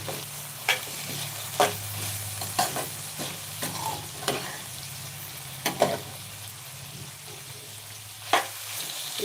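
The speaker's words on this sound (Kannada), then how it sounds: "ಫ್ರೈ ಆಗಲಿ" Onions fry in a little oil in a pan for poha upma, a steady sizzle broken by repeated sharp scrapes of a spatula as they are stirred, close and moderately loud with no talking.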